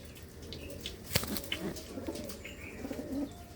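Two freshly caught white pigeons give soft, low coos, close but faint, with a sharp flutter or click partway through.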